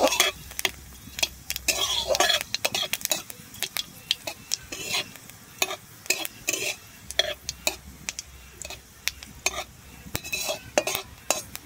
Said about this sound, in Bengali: আমার শুকনো লঙ্কা আর জিরাটা ভাজা হয়ে গেছে